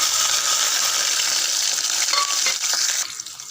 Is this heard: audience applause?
no